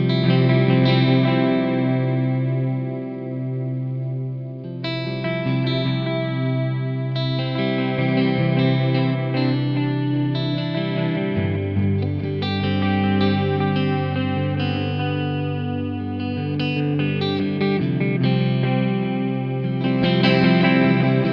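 Electric guitar strumming open chords through a dirty, hissy effects pedal, thick distorted tone with chorus-like shimmer, ringing steadily and loud for the whole stretch with no voices.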